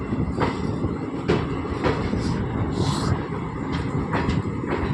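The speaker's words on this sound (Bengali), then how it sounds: "ট্রেন যাচ্ছে, সামনের দিকে যাচ্ছে ট্রেন" A long passenger train rolls steadily through hilly country, a continuous rumble with rhythmic clickety-clack wheel beats and occasional higher screeches, heard from on board at close range.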